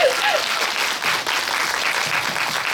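An audience at a cinema talk event in CGV Apgujeong's ART2 hall applauds, a dense steady clatter of many hands that carries on without pause, with a faint voice at the very start.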